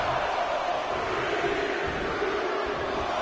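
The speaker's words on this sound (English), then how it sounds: "Listen to this crowd count the next one in." Wrestling arena crowd in the video game WWE 2K20, a steady dense roar of cheering spectators sustained throughout at a moderate level, with no clear individual voices standing out.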